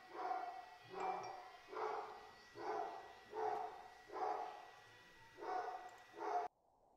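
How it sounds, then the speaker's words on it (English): A dog barks in steady repeated woofs, about eight in a row at an even rhythm, from the opening of the video game Garshasp: The Monster Slayer, fairly faint and with no talk over it. "Dog barking"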